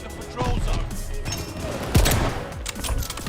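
Gunshots in the video game Call of Duty Vanguard crack out in scattered bursts with a heavy thump near the middle, mixed with game noise and someone talking over the action.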